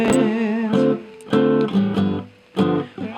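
Guitar chords of a song's chorus, played as a practice arrangement. Four or five ringing strummed chords, each sustained and then fading, with short gaps between them and no voice.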